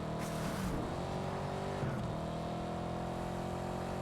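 A rear-wheel-drive sports car engine in the video game Test Drive Unlimited Solar Crown drones steadily, with a brief rise in revs and a short burst of wheel-spin tire noise early on, a continuous mechanical roar throughout.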